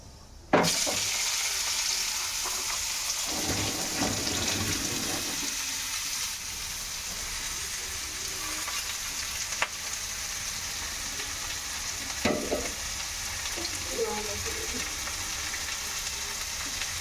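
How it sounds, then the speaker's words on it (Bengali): Potatoes fry in a pan with nigella seeds, a steady close sizzle that carries on for a long stretch, broken by occasional scrapes and knocks of stirring. "আলু ভাজা হচ্ছে এখন।"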